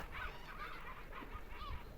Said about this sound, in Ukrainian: Га-га-га-га, чайки, чайки.